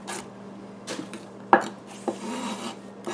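A knife trims the last bits of food on a cutting board during kugel prep, producing a few soft close scraping strokes and one sharper tap against the board, quiet and without speech.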